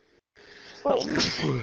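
A single sharp human sneeze bursts out close and loud, with a short breathy intake just before it, at a tabletop roleplaying game session.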